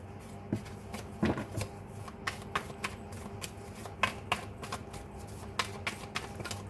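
A deck of tarot cards being shuffled by hand, with a series of crisp riffles and slaps at irregular intervals, close and fairly quiet, with no talking.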